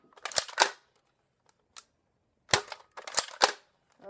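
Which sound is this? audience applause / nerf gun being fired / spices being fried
nerf gun being fired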